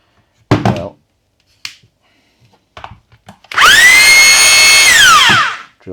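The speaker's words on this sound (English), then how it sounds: "drill seems to work." A Makita DHR202 hammer drill under repair spins up loud and alone for about two seconds, a steady whining motor with a falling pitch as it winds down, after a few scattered knocks and handling thumps.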